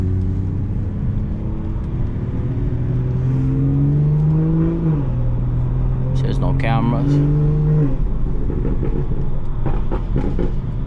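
BMW 440i coupe driving, its engine rising and settling through a few revs and shifts, a low rumble heard from inside the car with a person speaking over part of it.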